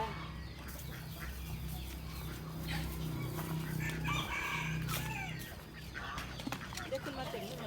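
Chickens on a farm, with a rooster crowing and hens clucking at moderate distance over a steady low hum, while people talk throughout.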